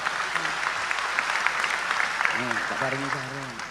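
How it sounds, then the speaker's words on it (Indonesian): Audience clapping at an Indonesian religious gathering, a dense steady patter of hands with a voice speaking over it partway through. "Tepuk tangan untuk beliau, enggak apa-apa."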